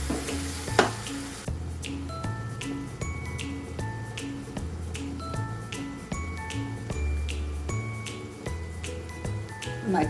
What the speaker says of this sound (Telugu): ఇప్పుడు టమాటా, ఉల్లిపాయ మిక్సీ పట్టుకున్న ముద్ద వేసేస్తున్నాను